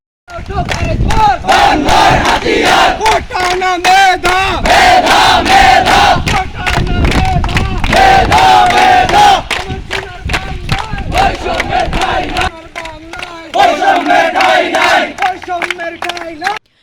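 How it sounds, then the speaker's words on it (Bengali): Students protesting the quota system at Noakhali Science and Technology University chant slogans in a loud, rhythmic mass of voices, the crowd's shouted calls rising and falling in repeated bursts, close and sustained. "এ সময় শিক্ষার্থীরা কোটার বিরুদ্ধে বিভিন্ন স্লোগান দেন।"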